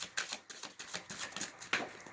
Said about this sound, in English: I'm going to shuffle from the Rider-Waite-Smith deck for a clarifier